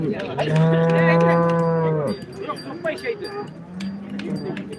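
A cow at a busy village cattle market gives one long, loud, close moo, followed by softer lowing amid crowd chatter and people talking nearby.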